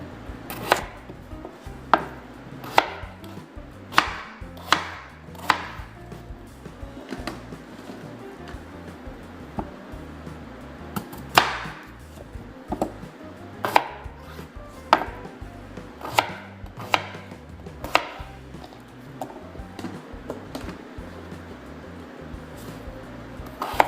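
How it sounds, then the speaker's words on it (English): A knife chops potatoes into dice on a board, giving sharp, close knocks in irregular bursts with short pauses between groups of cuts. "And you chop them about 3 times or 4 times, depending how big the potato is, and that way you've got diced potatoes"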